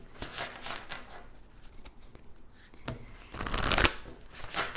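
Oracle cards are shuffled and drawn for a tarot reading, giving a steady papery riffling and flicking close by, with a louder burst of shuffling near the end and no talk over it.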